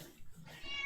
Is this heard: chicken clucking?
no